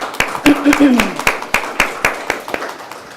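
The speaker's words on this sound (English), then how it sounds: "Let's give them a round of applause" A small audience at a real estate event gives a sparse round of applause, a dozen or so distinct claps in an uneven rhythm, with a voice briefly audible early on.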